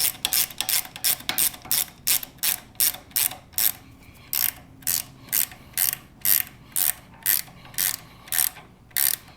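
A hand ratchet tightens a bolt during a Harley-Davidson Softail lowering kit install, giving a crisp, close series of rhythmic clicking bursts with brief pauses between strokes.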